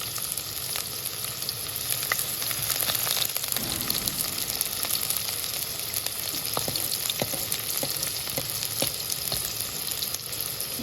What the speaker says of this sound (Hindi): देखें घी गर्म हो गया, अब इसमें प्याज डाल दें। इनको अच्छी तरह ब्राउन कर लें।